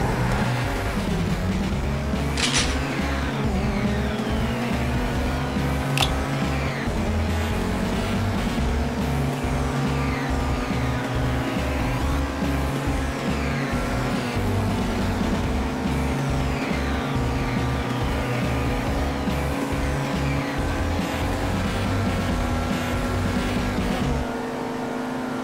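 An unmodified, rear-wheel-drive sports car modeled on a new Audi, driven in GTA 5, keeps a steady, loud engine drone that climbs through the gears, with a brief tire squeal early on and no talking.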